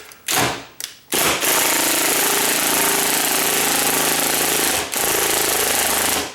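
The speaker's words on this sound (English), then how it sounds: "When you're taking off these screws, let's get this last screw out of here." Power drill whining as it backs out door screws, two short bursts followed by a long continuous run with a brief dip near the end, loud and close with no voices.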